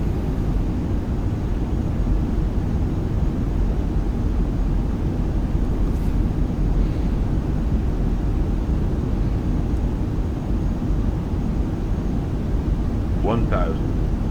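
Airbus A320 jet engines in a flight simulator game, a steady broadband roar holding at one level throughout, with no break and a brief faint click near the end.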